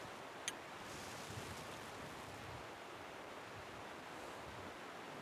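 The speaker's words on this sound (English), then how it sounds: "So right now we're just listening to the sound of waterfalls." Distant waterfalls feed down mountain valleys into the Clarke River valley at the top of New Zealand's South Island. The sound is a faint, steady broadband roar, unbroken and without voices.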